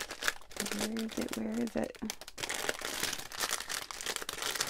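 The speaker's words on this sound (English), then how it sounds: "I'm sorry about the crinkling, guys." Parcel packaging crinkles and rustles steadily while being unwrapped, close and continuous, with someone speaking briefly over the crinkling near the start.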